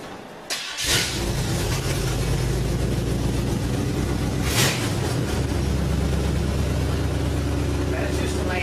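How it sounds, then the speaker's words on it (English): A 1972 Camaro Rally Sport engine catches with a sharp start and settles into a loud, steady, throaty run close by, lasting the full length without letup. "this does have a real strong, good running engine, so it should sound good."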